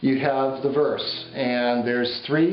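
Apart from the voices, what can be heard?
No distinct noise like a dog, phone or traffic.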